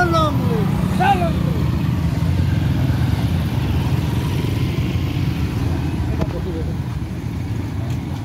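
Many motorcycles drone together in a long, steady engine roar during an All Assam bike rally from Sadiya to Dhubri, loud and continuous, with the rumble thinning slightly toward the end.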